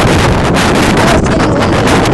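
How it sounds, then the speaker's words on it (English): Strong storm wind in Wollongong roars continuously across the microphone, a loud, steady broadband buffeting with no break for the whole moment. "Very windy."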